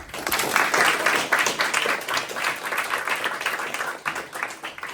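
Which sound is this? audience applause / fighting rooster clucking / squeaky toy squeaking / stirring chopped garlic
audience applause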